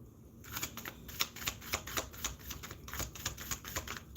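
Tarot cards being shuffled in a steady run of crisp riffling flutters and soft slaps, close and fairly quiet, with a brief pause partway through before the shuffling resumes.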